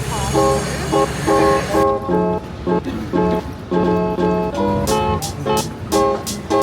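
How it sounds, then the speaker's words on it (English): A New York City subway train, the 1 line, rumbling loud and close inside a large station, with steady mechanical noise and a repeating, chime-like tonal pattern throughout. "We're gonna go and get the one train."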